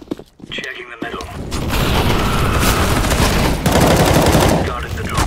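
Dense video game gunfire with rapid overlapping shots and booms builds into a loud, sustained fusillade, close up, with voices talking over it.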